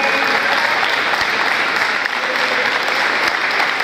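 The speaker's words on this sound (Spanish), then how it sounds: "Un aplauso para Sierra." Sustained applause from a crowd fills the whole stretch, a dense, even clatter of many hands clapping.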